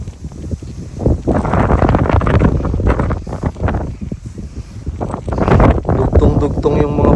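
Strong wind buffets the microphone on the summit of Mt. Balagbag, a loud, rough roar that gusts throughout, with a person speaking underneath.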